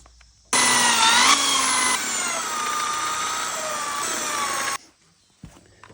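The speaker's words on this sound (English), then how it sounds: "I'm just going to take my drill with marked depth and just drill all of these holes." A loud, steady high-pitched whine of a power drill biting into steel plate, running continuously for several seconds before stopping abruptly.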